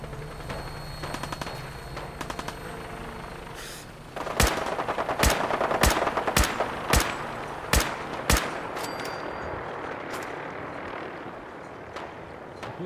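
Gunfire against raiders in Fallout 4: loud, sharp shots fired in a fast irregular volley, about eight cracks over several seconds, preceded by quieter scattered pops and followed by a rumbling tail, with no voices.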